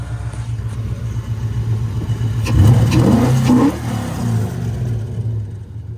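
A Nissan 240SX with a swapped VH45 V8 idles with a low, steady rumble, then revs up hard and briefly, loud and close, before settling back to idle.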